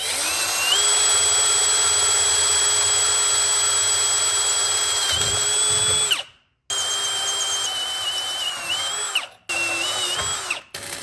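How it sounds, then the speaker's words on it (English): A power drill bores pilot holes in metal mount brackets for a boat, whining at a steady high pitch in long sustained runs, dropping briefly between holes before spinning up again. "So I'm pre-drilling these, getting them then done."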